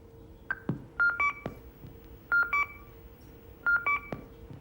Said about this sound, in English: the computer nuisance call